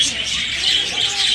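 Pigeons, including royal breeds, at the Mureidi bird market in Baghdad, with a steady wash of high chirps and calls over a low, constant market murmur.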